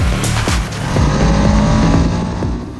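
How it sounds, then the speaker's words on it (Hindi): A Ducati Panigale V2 motorcycle revs hard through its exhaust and valvetrain, giving a loud, continuous, strongly pitched engine note that surges near the start and then holds steady with no talking. "यहाँ एग्जॉस्ट और वॉल्व की आवाज बरकरार है"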